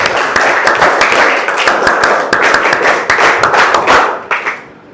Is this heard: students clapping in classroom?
yes